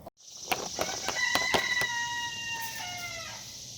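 A rooster crows loudly and close, a long bright call with sharp harmonic tones, while a few brief clucks and scuffs punctuate it.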